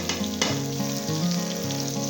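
Chopped tomatoes hit fried onions in a pan for masala dum bhindi, giving a loud, steady sizzle with a sharper burst early on and stirring underneath.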